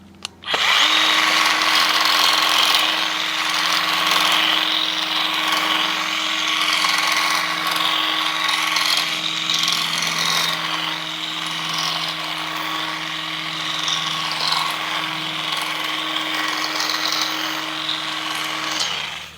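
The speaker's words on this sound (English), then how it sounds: "the hedge trimmer attachment goes through the cedar super easy" A Greenworks 24V cordless hedge trimmer attachment runs steadily while cutting through a cedar shrub, giving a continuous close buzzing whine with a steady tone for about eighteen seconds, with no talking.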